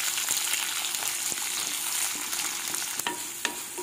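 Chopped shallots and three green chilies fry in hot oil with a steady, even sizzle, broken by occasional scrapes and stirs of a utensil against the pan, close and fairly loud with no one talking.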